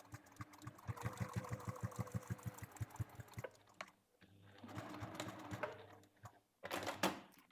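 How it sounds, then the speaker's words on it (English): A sewing machine backstitches a bag, a quick, even rattle of stitches that pauses, runs again in a shorter burst, then stops near the end; close and fairly quiet, with no voices. "So make sure you properly backstitch there."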